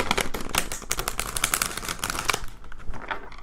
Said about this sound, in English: So hard to shuffle this deck.